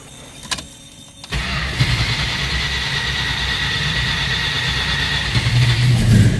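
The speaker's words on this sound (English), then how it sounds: "Let's go ahead and fire this one up." A 1971 Dodge Challenger's 340 V8 cranks briefly after a quiet pause, then catches on a cold start and settles into a steady, loud, close rumble that swells slightly toward the end.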